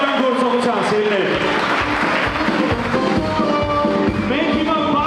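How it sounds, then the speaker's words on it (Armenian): A crowd at a baptism and first-birthday celebration claps loudly and steadily throughout, dense sustained applause with a voice speaking over it. "ուզում եմ նաև բարձր ծափեր հնչեցնենք բոլոր նրանց պատվին, ովքեր հիմա ծառայում են"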